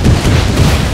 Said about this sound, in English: My guys are hitting themselves with their own grenades.